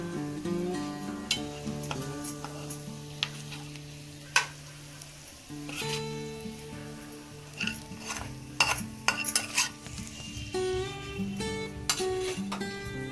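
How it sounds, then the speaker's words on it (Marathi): Fried masala is stirred into potatoes for Maharashtrian vada pav, with scraping utensil strokes and clinks against the pan over a soft sizzle and scattered sharp taps. "आता हे व्यवस्थित आपल्याला मिक्स करून घ्यायचे आहेत."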